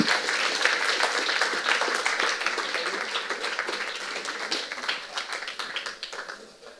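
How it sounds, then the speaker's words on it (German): An audience at a Berlin digital-policy evening event applauds a speaker. The dense clapping starts strong and gradually thins out and fades toward the end. "dann großen Applaus für meine Kollegin Chris."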